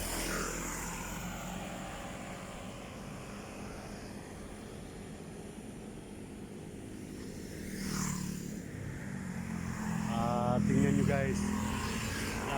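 Vehicles and motorcycles rush past along a roadside in Cabuyao, Laguna at night, a steady traffic rumble swelling as passes build near the end, with someone talking over it.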